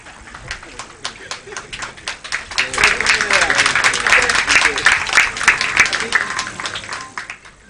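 Steady audience applause at a police passing-out parade, many hands clapping in a continuous crowd patter that swells in the middle and then eases off.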